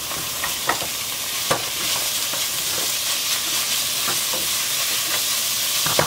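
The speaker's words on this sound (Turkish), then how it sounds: "Kavrulmuş soğanın üzerine bir adet rendelenmiş havucumuzu ekleyelim ve kavurmaya devam edelim" Grated carrot frying in a pan over sautéed onions, a steady close sizzle throughout with occasional stirring scrapes and clicks.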